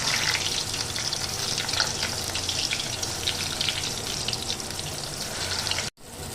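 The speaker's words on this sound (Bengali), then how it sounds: "এবার একে একে সেদ্ধ করে রাখা আলুর টুকরোগুলো এখানে আমি গরম তেলের মধ্যে দিয়ে দিলাম" Boiled potato pieces hit hot oil in a pan over a gas flame, giving a loud, steady crackling sizzle that cuts off sharply near the end.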